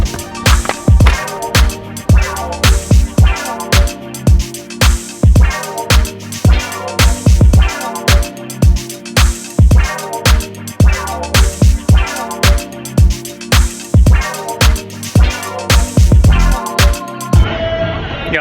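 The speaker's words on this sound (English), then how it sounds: "That's the sound of copyright music" Loud music with a steady, punchy beat and layered instruments plays continuously, cutting off abruptly near the end.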